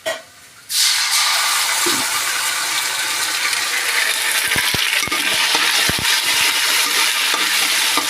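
Curry leaves frying in hot oil with onion and ginger paste, a sudden burst into loud continuous sizzling with scattered clinks of a utensil against the pan.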